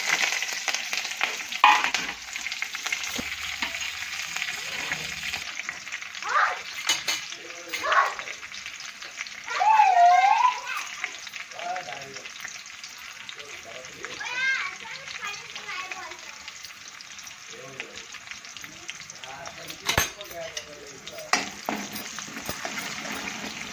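Spices and green chillies frying in hot oil for a cabbage and potato curry, a steady sizzle with occasional stirring scrapes. Children's voices and talking can be heard over it.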